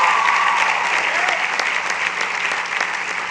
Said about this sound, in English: Class of 2018. Give yourselves a round of applause.